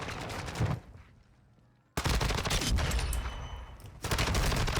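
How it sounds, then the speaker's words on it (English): Call of Duty: Warzone 2 gunfire rattles in loud, rapid bursts, with a short lull before heavy shooting resumes and continues to the end. "Someone's shooting."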